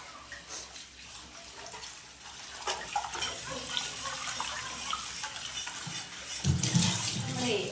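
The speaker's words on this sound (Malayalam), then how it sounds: "അരി കഴുകിക്കൊണ്ടിരിക്കും." Rice for grinding into unniyappam batter is washed in water, with soft sloshing and rinsing and light clinks of a metal vessel, fairly faint and steady throughout.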